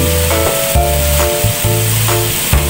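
Bean sprouts hit a hot pan of stir-fried flat noodles loaded with vegetables, giving a loud, steady sizzle with rhythmic bursts as the mix is tossed, while low humming tones run underneath.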